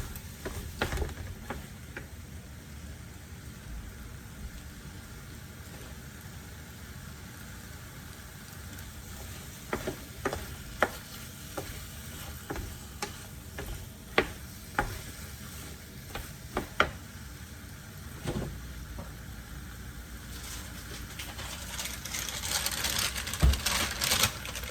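Diced tomato sizzles in a pan with chorizo, a steady low frying hiss broken by scattered sharp clicks and scrapes of a utensil stirring against the pan, with no talk.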